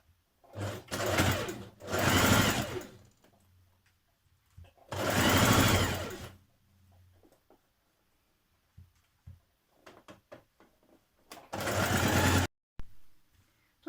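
Sewing machine stitching a front dress bodice to the front skirt along matched seams, heard as three loud bursts of steady whirring, the first two close together and the last shorter, separated by quiet handling noises.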